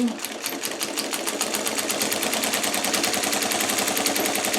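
A sewing machine stitches a pillowcase seam with a backstitch, producing a rapid, even mechanical rattle that runs continuously and close by, with no talk over it.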